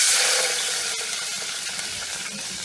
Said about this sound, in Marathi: चांगलं मिक्स करून घ्यायचं आणि यामध्ये अर्धा लिटर ताक घालायचं